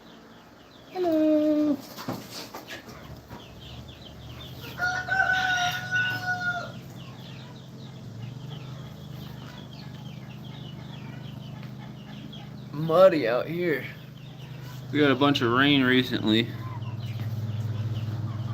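Backyard chickens and a rooster on muddy ground after heavy rain: a rooster crows clearly a couple of times while hens cluck intermittently, close by, with someone talking between and over the calls.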